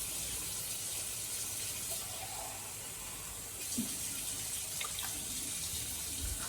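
Tap water runs steadily into a pot of chili con carne, a continuous close hiss and splash lasting throughout, with slight shifts in pitch as the flow changes.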